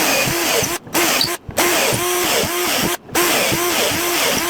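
Power drill running through a doweling jig to bore a set of three holes in wood, a loud steady whine that dips briefly between holes and repeats in rhythmic surges.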